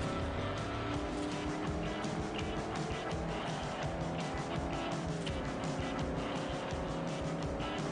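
Car sliding sideways in the Forza Horizon racing game, a continuous loud engine roar layered with tire squeal and skidding noise throughout, dense and steady without pauses.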